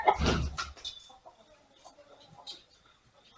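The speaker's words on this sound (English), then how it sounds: "Ignore the chickens." Barnyard chickens cluck near a 1947 Ford 8N tractor under repair, with a burst of louder clucking at the start and softer scattered clucks after.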